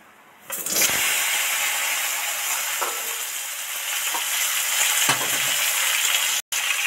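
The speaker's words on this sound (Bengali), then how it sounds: "টুকরো করা আলু আর টমেটোটা তেলের মধ্যে তো দিয়ে দিলাম, এবার এগুলো ডিপ ফ্রাই করে ভাজতে থাকবো" Potato pieces and tomato dropped into hot oil for deep frying, a sudden loud, dense hiss that holds steady and close for several seconds, with a brief break near the end.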